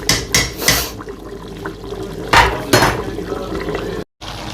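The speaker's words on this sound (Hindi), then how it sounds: "गोश्त को कुकर से निकाल के जी कढ़ाई में डाल दिया" Cooked camel meat is knocked and scraped out of a pressure cooker into a wok, giving several loud close metallic clanks and thuds with wet sliding sounds between them.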